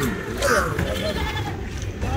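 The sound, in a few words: goat bleating at a market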